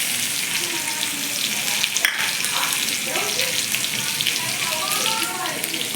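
Crushed peanut powder frying in hot oil in a pan for Khandeshi baingan bharta, a dense continuous sizzle with light crackle throughout and one brief clatter, close and steady.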